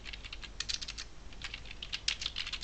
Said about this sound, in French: on tente de taper l'adresse de Facebook